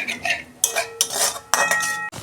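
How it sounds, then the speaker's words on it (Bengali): A utensil scrapes and clanks against a pan in several distinct strokes as okra masala with yogurt is stirred over a low flame. The metallic bursts are close and loud, with a faint sizzle between them. "গ্যাসের ফ্লেমটা আস্তে করে দিয়ে নাড়তে হবে"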